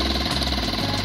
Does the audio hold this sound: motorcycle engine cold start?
yes